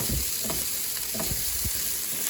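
Fried rice with egg stirred in a home pan, a steady close sizzle with several scraping stir strokes breaking through at intervals, no voices.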